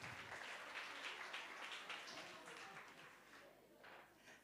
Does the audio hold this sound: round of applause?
yes